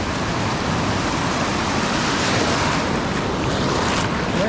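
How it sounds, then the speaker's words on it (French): Ocean waves wash steadily onto the shore as the tide comes in, a loud, continuous roar of surf with wind buffeting the microphone throughout and no voices. "Ouais, la marée monte"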